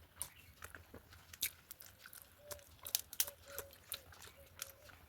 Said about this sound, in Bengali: এই যে এবারে উচ্ছে ভাজা দিয়ে ভাত খাবো।